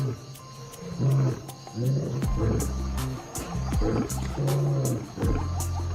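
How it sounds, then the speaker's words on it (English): An African lion roars in a series of deep, rhythmic, grunting bursts that rise and fall, close and loud against outdoor ambience. "Lions roar most at dusk and dawn because that's when sound carries best."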